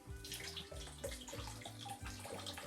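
A homemade parts washer pump sends a stream of water splashing into a bucket, a steady close gurgling flow with small rhythmic bubbling pulses.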